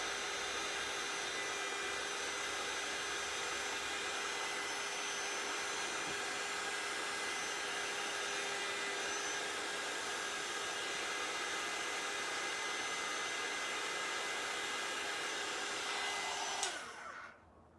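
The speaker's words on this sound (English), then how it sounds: "My cord on my heat tool isn't long enough." A craft heat tool blows hot air in a steady, close, unbroken whir that lasts most of the time, then cuts off abruptly and spins down at the end.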